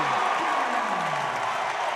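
A crowd cheers and applauds at a men's college volleyball match, Loyola against BYU, as a dense, steady wash of noise, with a commentator talking over it.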